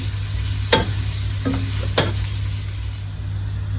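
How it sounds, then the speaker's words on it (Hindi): Sliced onions frying in hot oil for a Sindhi biryani, with a steady close sizzle and a few sharp scrapes of a spoon stirring the pan, no voices. "अब जितनी देर में वहाँ पे अनियन फ्राई हो रहा है"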